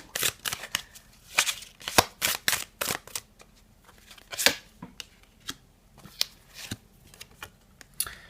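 Tarot cards are shuffled close up in quick riffling bursts and soft slaps, repeating irregularly with short pauses between.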